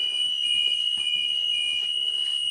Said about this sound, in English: I hear the buzzer, light is on